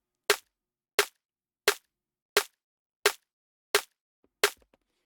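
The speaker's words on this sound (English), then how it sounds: "the snare in this tune is made out of 4 layers." A layered snare drum built from four stacked samples, struck seven times at an even, steady pace, each hit sharp and bright with a quick decay, heard alone with no talking.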